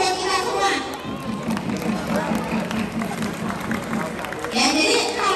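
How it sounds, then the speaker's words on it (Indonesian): Audience applause fills a mental health seminar hall: a dense, steady wash of clapping and crowd noise that swells louder near the start and again at the end. "kasih aplaus buat kita semua"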